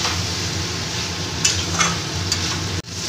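Fried potato and cauliflower stirred in a pan over low flame, a steady oily sizzle with a few scraping spatula strokes and a sharp clack near the end.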